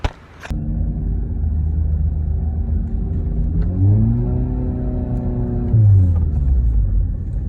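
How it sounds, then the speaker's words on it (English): A 350whp VW MK7 GTI with a slipping clutch drives off, its engine droning loud and steady, revs rising and falling in smooth sweeps as it pulls away, with no talk. "I was pulling out of my neighborhood yesterday, and my clutch started slipping."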